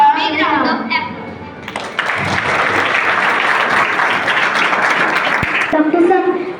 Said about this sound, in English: Welcome them by giving a big round of applause.